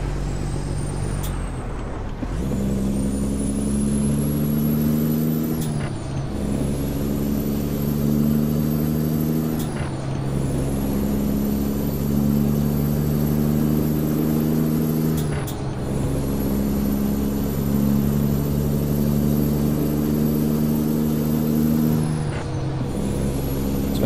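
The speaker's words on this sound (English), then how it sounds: "As you can hear, this truck definitely sounds a hell of a lot better than the stock W900." Kenworth W900 glider truck with a CAT 6NZ engine in American Truck Simulator, a steady deep diesel drone that loudly dominates throughout. Its revs rise and fall between gear shifts, with air-brake hisses around each change and no talking.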